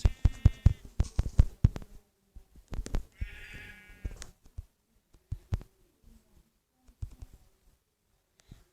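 Minecraft sheep bleating several times, short wavering cries among clicks and soft thumps, fading to sparse quiet taps.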